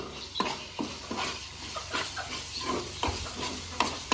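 Chicken and chicken liver frying and being stirred in a pan, a steady sizzle with repeated scraping strokes of a spoon roughly every half second, close and moderately loud, no talk.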